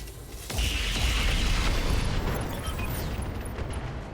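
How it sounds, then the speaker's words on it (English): In the RogueTech video game, an Artemis ammo explosion destroys a mech, a loud sustained booming blast with rumbling debris that swells suddenly and keeps roaring for several seconds. "Artemis ammo explosion, and it's just dead."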